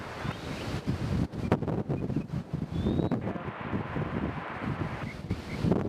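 Gusty wind buffets the microphone at Nashville International Airport, producing loud, uneven rumbling bursts and dropouts throughout, with a faint distant background hiss.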